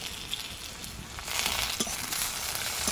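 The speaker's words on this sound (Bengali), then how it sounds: "এবার আমি এর মধ্যে দিয়ে দেব একটি বড় সাইজের টমেটো কুচি করে নিয়েছি দিয়ে দিচ্ছি" Chopped large tomato dropped into a pan of half-fried onions, giving a steady close hiss and crackling sizzle that swells louder after it goes in.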